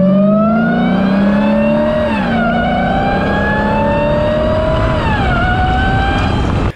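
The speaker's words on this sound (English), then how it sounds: "Now, the best thing about a Hellcat is that its supercharger makes a lot of noise." A Dodge Hellcat with an aftermarket intake accelerates hard, its supercharger whining loudly over the engine roar, the pitch climbing through gear changes before cutting off abruptly.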